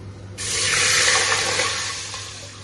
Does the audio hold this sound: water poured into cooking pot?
yes